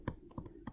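Calculator keys pressed one after another, four or five quick, close, faint clicks with no voice over them.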